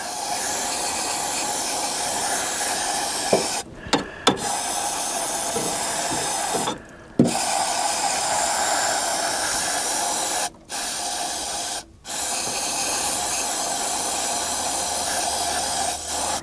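A steady hissing spray of aerosol cleaner into an M151A1 jeep's carburetor runs almost continuously, broken by a few brief pauses between bursts, close and loud.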